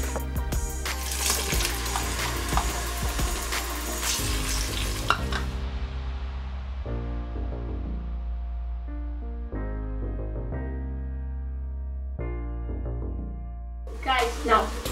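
Tomato with a teaspoon of garlic ginger paste sizzles and fries loudly in a pan for paneer tikka masala, with some stirring. The sizzle fades into quieter, intermittent sounds while a person talks.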